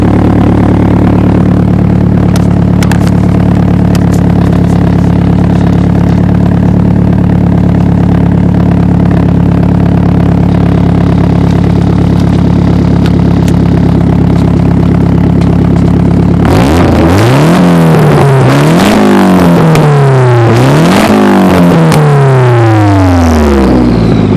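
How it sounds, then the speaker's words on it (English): A 1990 Nissan 240SX coupe with an SR20 engine idles steadily from cold with a deep exhaust drone, then revs sharply several times in quick succession, the pitch rising and falling with each blip. "we'll go to the back and check out the exhaust and hear the exhaust note"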